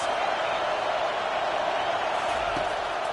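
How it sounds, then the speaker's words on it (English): A packed football stadium crowd in Memphis roaring to rattle the visiting offense, a steady broad wall of cheering noise, loud and unbroken throughout, with a commentator's voice faintly beneath. "Listen to this crowd just shaking the girders of this place, trying to help their defense"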